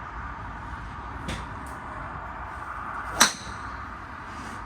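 A single sharp, bright crack of a golf driver hitting a ball, close and clear over quiet outdoor background noise, preceded by a fainter tick.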